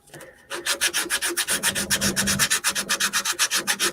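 Wood sanded by hand in fast, even back-and-forth strokes, close and loud, a rhythmic raspy scratching that keeps going without pause and with no voices.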